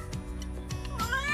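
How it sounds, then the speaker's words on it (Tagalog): Mingming, a pregnant pet cat, meows close up several times, each a short nasal cry, rising into a longer drawn-out meow at the end. "ito naman yung pusa namin, si Mingming, na buntis."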